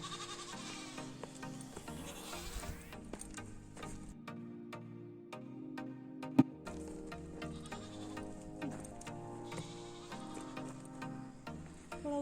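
A goat in a small hill village near Mukteshwar bleats in short, nearby calls, with faint ticks and rustles between them and one sharp knock partway through.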